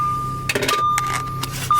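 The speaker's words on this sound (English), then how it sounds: "Of course, it beeps at you." A 2013 Audi Q7 3.0T quattro warning chime beeps as a thin steady tone, breaking off and resuming several times, with soft cabin clicks and rustling in the background.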